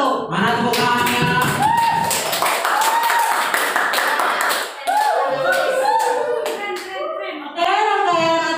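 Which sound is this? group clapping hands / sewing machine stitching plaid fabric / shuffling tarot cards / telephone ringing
group clapping hands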